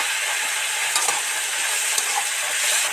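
Vegetables for veg momo sizzle in a pan with a little salt, a soft steady fry with scraping stir strokes of a spoon or spatula at about one and two seconds, no voices.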